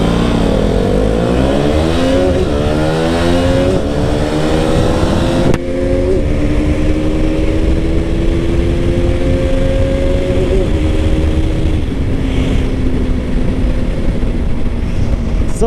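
A Bajaj RC 200 motorcycle pulls hard through third gear, its engine note climbing steadily in pitch as it accelerates, loud and close with constant wind rush and no talking.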